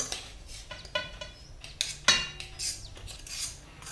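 A metal utensil scrapes and clinks against a vessel while warm cooked flour dough for raw papaya paratha is transferred out, with several sharp taps and scrapes at uneven intervals, close and moderately loud with no talking.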